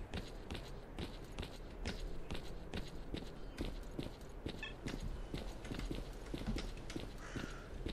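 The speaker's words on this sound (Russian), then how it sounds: "возможно, мои просто были шаги" Footsteps in the video game S.T.A.L.K.E.R. Clear Sky thud in a steady, fairly quick walking rhythm for the whole stretch, muffled and faint, with no talk over them.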